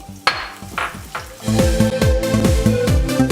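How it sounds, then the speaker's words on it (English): Chopped onions sautéing in a teaspoon of oil in a pan, with repeated scraping and stirring strokes over a steady sizzle that grows louder partway through, close and without talk. "1 teaspoon and saute the onions, chop చేసిన onions."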